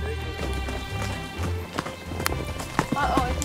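Horse hooves clip-clop in a steady rhythm on a trail during a ranch horseback ride, close and fairly loud, with people talking over them.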